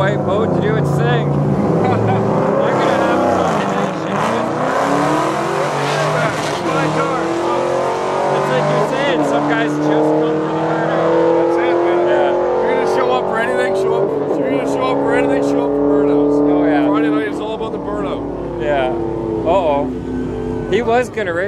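A big white street-legal car nicknamed the boat roars down a drag strip at a Friday night event at St Thomas Raceway Park, its loud engine note rising through the gears, with spectators talking over it.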